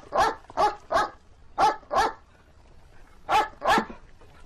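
A dog barks sharply and loudly in short bursts, three quick barks, then two, then a pause before two more, close by with little else around, in a scene from an action film.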